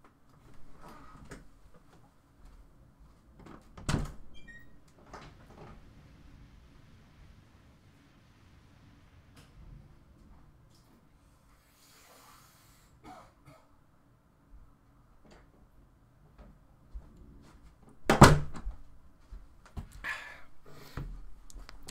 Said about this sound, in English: Apologies if you heard me slamming the door